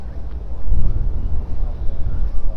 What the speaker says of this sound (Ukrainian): Вітер нормально так дує.